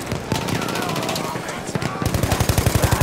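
Machine gun fire in Battlefield 1 during a Conquest match on Achi Baba, a close, dense stream of rapid shots that steadies into an even, rhythmic burst near the end.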